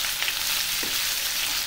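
Onions frying in a pan for chickpea masala curry, a steady close sizzle with a faint stir partway through, no voices.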